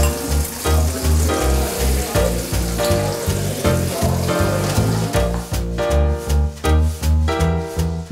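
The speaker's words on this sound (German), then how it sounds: "kurz anbraten, ein bisschen mit Olivenöl und Butter und ein bisschen Knoblauch" Shrimp fry briefly in olive oil and butter with garlic, a sizzle heard beneath loud rhythmic music with a steady pounding beat.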